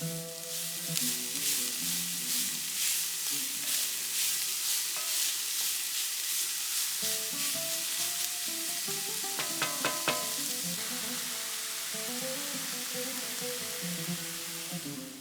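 Carrots, zucchini and celery sauté with red onions in a pan for Greek gigantes plaki, a continuous sizzle punctuated by soft stirring clicks and scrapes throughout, with background music.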